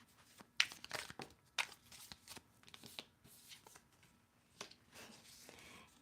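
Tarot cards are shuffled during a reading in a steady run of close, soft riffling and slapping strokes, with sharper snaps in the first seconds and a continuous papery rustle, without talk.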